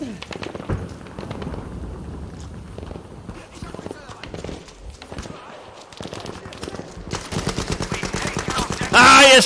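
Rapid bursts of gunfire and explosions from a shooter video game being played live on a gaming laptop, dense and loud, building toward the end, with a player talking excitedly over the action.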